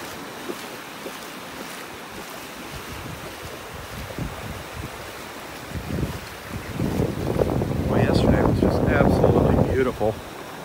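Surf breaking on a North Naples, Florida beach, wind rushing across the microphone throughout before the waves swell louder and wash in nearby toward the end.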